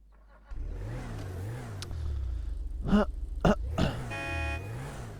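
A car engine in a video game revs and accelerates in steady waves, loud and close, with a couple of sharp grunting bursts and no talk.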